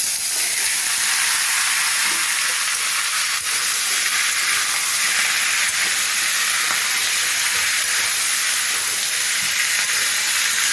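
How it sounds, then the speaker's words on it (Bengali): Potatoes dropped into hot oil with spice tempering for a white potato curry, giving a loud, continuous bright sizzle and hiss that stays steady throughout, with no talking. "ফোড়নের মধ্যে আমি এই আলুগুলো সব দিয়ে দেবো।"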